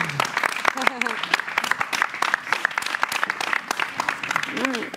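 Studio audience applauding on a French pop television show, a steady patter of clapping running throughout with voices and brief cheers rising over it.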